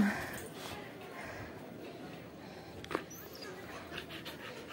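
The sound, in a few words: dog panting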